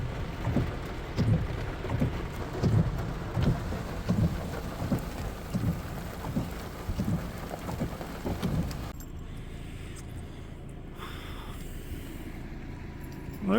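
Rain pours over a growing cornfield on a farm during a thunderstorm, with steady close-up patter and low rumbling thunder in the first part before the downpour softens to a quieter hiss.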